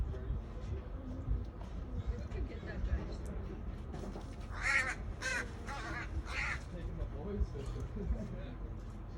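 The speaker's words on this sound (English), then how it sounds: "The crows are waiting." Crows caw in a few bursts at the seaside, mid-distance and moderately loud over a steady background rumble, with gulls plausibly around.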